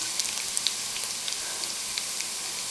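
Prawns fry with green chilies in hot oil, giving a broad, even sizzle dotted with small sharp pops and crackles close by.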